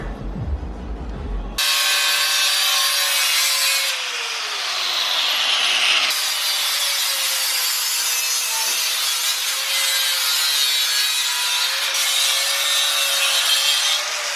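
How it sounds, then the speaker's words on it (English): A saw cuts through the dust shields of a car during differential work. The grinding, rasping cut runs loud and continuous for most of the clip, with a few brief shifts in pitch. No one speaks. "Cutting these dust shields."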